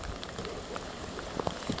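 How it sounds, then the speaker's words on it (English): Rain beginning to fall during a storm, a steady soft patter of drops with a few sharper close splats, continuous and fairly quiet with no voices. "It's starting to rain."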